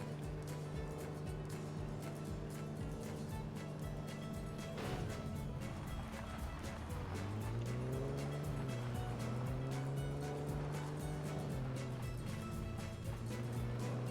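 A car driving in the video game American Fugitive, its engine drone holding steady and then rising and wavering as it revs, with a constant road rumble under the engine note.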